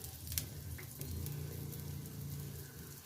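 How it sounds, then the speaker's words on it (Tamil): A lentil adai dosa fries in oil on a pan, producing a steady, close sizzle and crackle that holds evenly throughout, with a faint stir or two and no speech. "ஊற்றிட்டு ஓரத்துலலாம் நல்லா எண்ணெய் விட்டுங்க"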